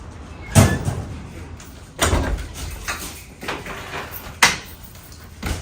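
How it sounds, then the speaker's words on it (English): A post office door handled in a series of loud, close bangs and rattles spaced a second or two apart, with faint background noise between. "She locked the door."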